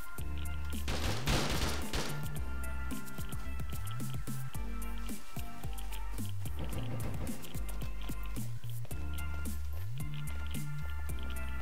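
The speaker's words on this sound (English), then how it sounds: "Being shot from the left side there" Gunfire in the survival game Rust, with rapid bursts of shots crackling over a loud, dense game soundtrack and ambient noise, the firing clustering in two heavy flurries.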